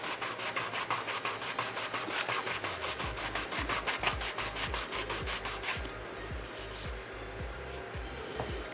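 A crochet hook is sanded smooth on a first, coarse grit, with a quick back-and-forth rasping rub repeated in a steady rhythm, close up and alone.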